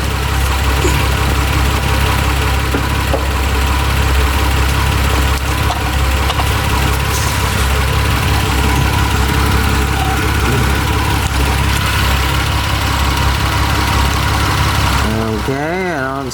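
A Mitsubishi Eclipse engine idles steadily while warming up after a timing belt job, a loud, continuous low rumble with faint tapping throughout that cuts off near the end.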